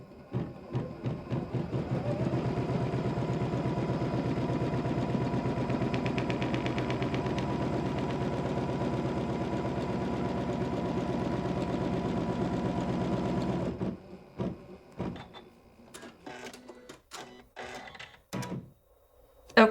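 An embroidery machine stitches a line on a notebook cover, a fast steady mechanical rattle running continuously and close for about fourteen seconds before stopping, followed by a few scattered clicks and handling noises.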